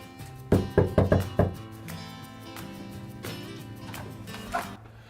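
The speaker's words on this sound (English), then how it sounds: "I'm gonna knock on the door" A fist raps on a front door, several loud close knocks in quick succession under a steady music bed, followed by quieter room sounds.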